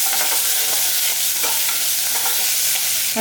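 A steady loud sizzle comes from onions frying in a pan with a slit green chili, and light scraping stirs sound through it.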